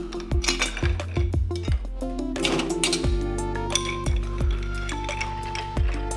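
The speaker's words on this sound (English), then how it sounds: "Just keep stirring until you get the right amount of dilution." A cocktail with black walnut bitters stirred over ice in a glass: bright ringing clinks and rattles repeat in quick succession, close up, with no talking.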